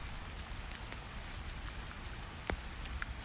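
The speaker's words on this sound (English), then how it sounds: "Rain sounds grow softer on the roofs" Steady, soft rain patters on monastery roofs in the Tibetan mountains, a dense hiss of drops with occasional louder taps, calm and continuous throughout.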